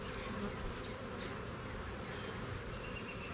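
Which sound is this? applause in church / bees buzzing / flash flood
bees buzzing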